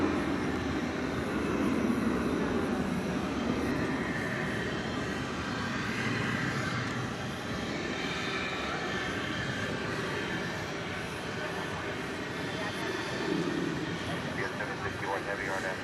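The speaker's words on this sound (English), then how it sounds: "the Airbus A306, the Airbus A300 going to Ontario" An Airbus A300 jet at DFW airport at night gives off a steady, fairly distant engine drone that rises and falls gently, with someone talking over it.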